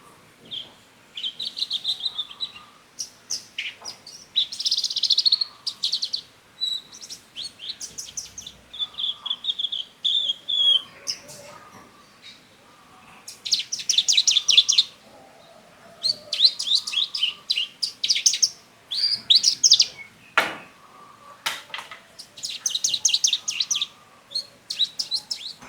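Javan bushlark chicks singing alone, a long run of bright chirps and twittering phrases in repeated bursts with short pauses, close and fairly loud.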